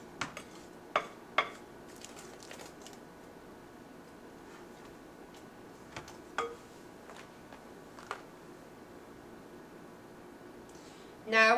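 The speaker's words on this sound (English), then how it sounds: "You want to mix it up real well. Scrape the sides of the bowl." A spoon or spatula scrapes and clinks sporadically against a mixing bowl while cookie dough is stirred, with faint light taps scattered over a quiet kitchen background.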